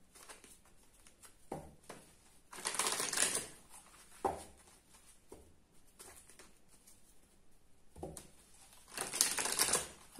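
Playing cards being shuffled make several quick riffling, fluttering bursts, close and moderately loud, broken by soft taps and pauses between each shuffle.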